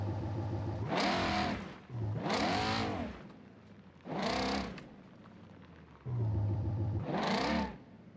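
A Ford Mustang engine in the game BeamNG revs up four times in separate bursts, each swelling to a roaring whine and dropping back to a low idle between them.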